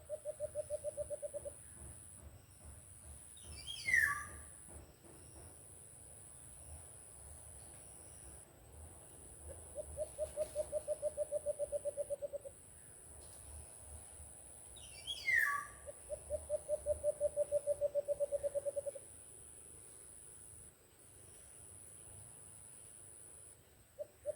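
A bird calls in three separate bouts, each a rapid, steady pulsed trill on one pitch, clear and moderately close. A faint insect-like hiss and a low hum run underneath.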